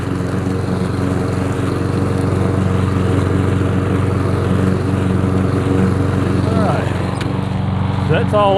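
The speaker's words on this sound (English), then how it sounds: "I do three passes with this 22-inch mower." A 22-inch lawn mower cutting grass runs loud and steady up close, a voice briefly audible near the end.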